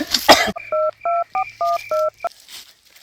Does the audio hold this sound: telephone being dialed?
yes